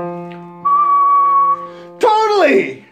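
A whistle blown with helium gives a steady high tone, then a second sharper burst that quickly bends downward in pitch, loud and close.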